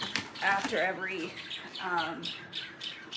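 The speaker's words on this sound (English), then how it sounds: "And pardon the birds, they're in the background." Pet birds squawk and chirp in short bursts in the background of a room while a person talks over them at close range.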